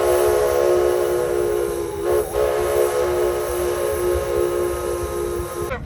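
A train whistle sounds a long, steady, loud tone over a low rolling rumble on the railway at Horseshoe Curve, holding for several seconds before cutting off.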